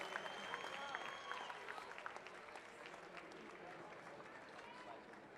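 Crowd applause and cheering at a powerlifting competition at the 2019 Department of Defense Warrior Games, steady clapping that holds for several seconds with an announcer talking over it.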